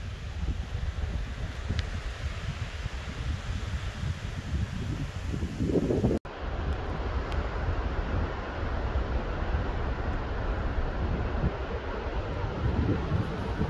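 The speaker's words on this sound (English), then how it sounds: "Sounds like a plane. It's literally just the wind." Strong wind roars across an exposed mountainside during a solo wilderness hunt in Washington State, a loud, continuous buffeting rush with gusts pounding the microphone and a brief dropout partway through.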